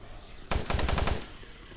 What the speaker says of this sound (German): Okay, 3 bis 4 Schüsse.